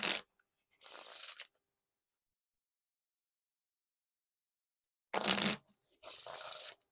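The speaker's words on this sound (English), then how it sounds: "I can do a riffle like a perfect riffle like every time" Coca-Cola playing cards being riffle shuffled, two quick bursts of crisp fluttering card riffles close by, each followed by a brief bridge, separated by a long silent pause.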